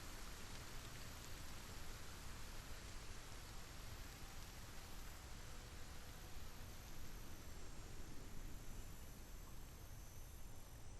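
Steady rain pours in the survival game Solarpunk, a constant broadband hiss with fine drop texture, moderately quiet and unbroken throughout, with no voices.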